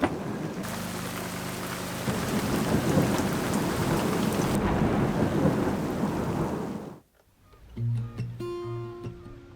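A thunderstorm pours heavy rain in a dense, loud roar for about seven seconds with rumbling underneath, then cuts to a much quieter scene with faint tonal sounds.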